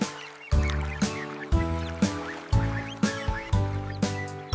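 A duck quacks repeatedly in a steady rhythm, about two loud, nasal quacks each second, close and clear.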